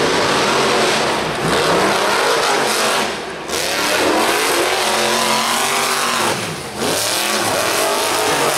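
Monster cars rev hard at the start of a race, their loud roaring engines overlapping in a dense, continuous wall of sound with rising and falling pitch and brief dips between surges.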